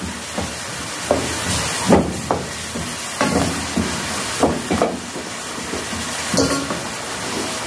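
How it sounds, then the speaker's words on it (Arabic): Chopped onions fry in oil and ghee, sizzling and crackling steadily in a pan, with scattered louder pops and spits over a constant frying hiss, close by. "قطعت البصل اهو، نزلت عليه بشويه زيت، وهنزل عليه كمان ايه معلقه سمنه بلدي"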